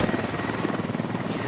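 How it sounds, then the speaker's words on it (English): An enemy helicopter coming in to land during a multiplayer military shooter match gives a loud, steady rapid rotor chop heard close up, with no voices over it. "Enemy heli landing."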